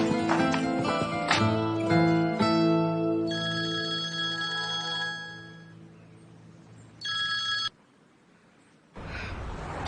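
A telephone ringing with a melodic electronic ringtone, loud and close, playing a bright chiming pattern that fades, then returns in a short burst before stopping.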